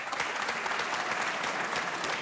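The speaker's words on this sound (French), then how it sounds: "applaudissez" Steady audience applause at a live comedy show, an even wash of many hands clapping throughout.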